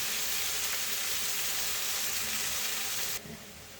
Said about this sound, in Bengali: ডিমগুলো ভাজা ভাজা করে ফেললাম, তো সাথে নুডলস দিয়ে দিচ্ছি